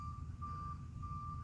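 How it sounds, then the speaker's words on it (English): Reversing beeps from a garbage truck sound as one steady, thin tone that holds across the whole stretch, over a low rumble of engine and street noise. The beeping comes from some distance, and no one speaks. "It's one of these garbage trucks making that noise"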